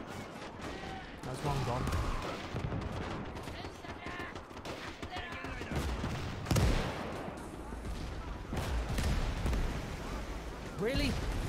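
Dense, continuous machine gun fire and explosions fill the beach assault in the Iwo Jima mission of the game Valour, loud and chaotic throughout, with someone speaking briefly over the din.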